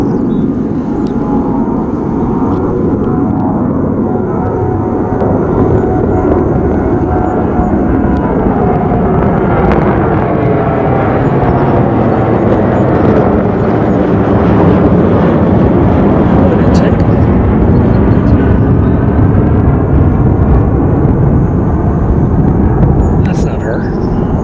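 Boeing C-40, a 737-based military jet, flying past outdoors, a loud sustained roar that swells and stays heavy throughout, with a voice talking faintly under the noise.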